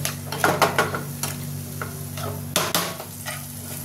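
A spice paste fries in a pan for a fish curry made with sesame and yogurt. A constant sizzle runs underneath as a spoon stirs, with sharp scraping clinks clustered early and again near the end.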